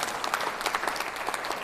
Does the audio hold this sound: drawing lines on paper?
no